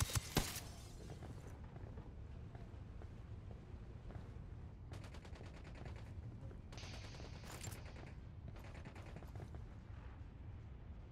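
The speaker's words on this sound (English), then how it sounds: "Are they shooting at the lieutenant?" Gunfire in Ghost Recon Wildlands: an early loud shot, then a sustained dense wash of distant automatic weapon fire and rumbling battle noise that keeps going without a break, with bursts flaring up now and then.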